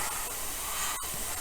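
Paint thinned with lacquer thinner hisses steadily from a spray gun, a close, continuous airy spray with no talking.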